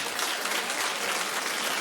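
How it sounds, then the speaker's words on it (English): Soft, steady studio-audience clapping on a daytime talk show, a light, even patter lasting under two seconds with no voices over it. "That was a very soft clap"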